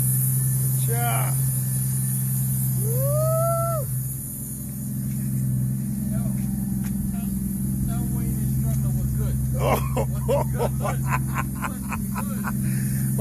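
A Toyota 1.5JZ engine swapped into a BMW E39 idles with a steady low hum after its first start, while people talk and sing nearby.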